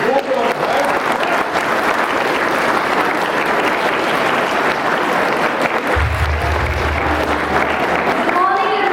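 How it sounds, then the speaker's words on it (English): A room of students claps continuously during a talk session, the applause thick, loud and even throughout, with a low hum joining partway through. "Everybody should clap"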